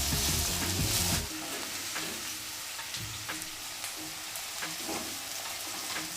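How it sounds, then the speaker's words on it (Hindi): Onion rings sizzle in hot oil seasoned with asafoetida, a steady close frying hiss with a louder burst at the start and light stirring throughout, no voices. "चलिए फटाफट प्याज को लच्छे खोल के हल्की गुलाबी कर लेते हैं"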